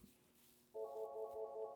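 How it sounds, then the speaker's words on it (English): A telephone rings alone in a quiet room, a steady electronic tone with layered harmonics starting partway through and continuing without pause. "The phone's ringing,"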